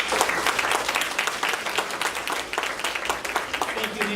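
A breakfast meeting crowd of realtors gives a round of applause, dense clapping with sharp individual claps standing out, rising and falling slightly over four seconds.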